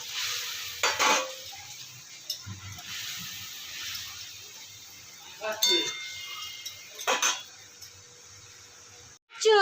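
Fish going into a hot pan in a home kitchen: quiet background sizzle broken by a few sharp clinks of utensils against the pan and brief scraping bursts, with soft clatter and a faint voice nearby.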